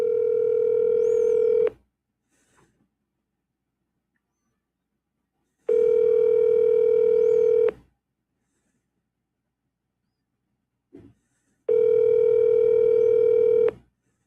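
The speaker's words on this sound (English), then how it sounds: "Call Annapurna. Calling Annapurna home" A phone call ringing out: three long, loud steady tones about two seconds each, separated by silent gaps of roughly four seconds, with a faint click between the rings.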